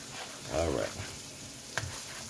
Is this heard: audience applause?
no